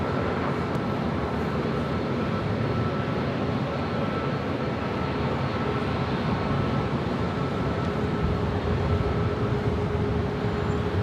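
A Delta Airlines Airbus A321neo rumbles at LAX airport, a broad, steady, loud roar of jet engines lasting throughout with no talking.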